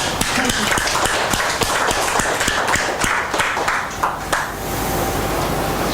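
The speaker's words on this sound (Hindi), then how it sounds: "सभी के लिए जोरदार ताली।" An audience claps after a chair yoga session. Sharp, loud, fairly sparse claps ring out in an irregular rhythm before tapering off into quieter room noise.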